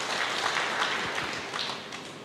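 Brief, fairly quiet burst of applause from a church congregation during a sermon, steady clapping that tapers slightly toward the end.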